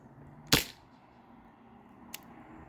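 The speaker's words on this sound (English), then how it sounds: "Let's try another shot." A single sharp, loud pop comes from a modded T4E TR50 CO2 pistol firing on an 8 gram CO2 cartridge, followed about a second and a half later by a fainter, shorter snap of impact against quiet background.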